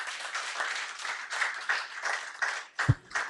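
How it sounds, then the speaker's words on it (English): An audience claps a round of applause after a panel session at an energy policy dialogue, a steady mid-level patter of many hands lasting a few seconds, with one sharper thump near the end. "let's give them a round of applause"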